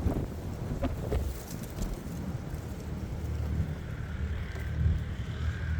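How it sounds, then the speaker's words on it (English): Steady wind noise buffets the microphone outdoors beside beehives, a continuous rushing roar that swells slightly near the end, with no one speaking. "Ooh, it's really windy."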